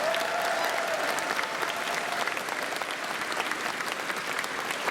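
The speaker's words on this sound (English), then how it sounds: "I just get the biggest round of applause for them." A large audience at the Anthrocon 2025 convention closing ceremony applauds, a dense, sustained clatter of many hands clapping that stays steady and fairly loud for the whole stretch.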